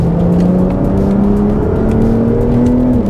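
A Porsche 911 Turbo S with all-wheel drive accelerates at half throttle on the Sepang track, its engine note rising steadily as a loud, continuous near drone that fills the cabin, with no speech.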